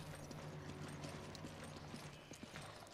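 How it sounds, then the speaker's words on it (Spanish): Mountain goats in Resident Evil 5 move about with quick, light hoof clatter over a mechanical game backdrop, steady and moderately quiet with no speech. "La cabra montesa."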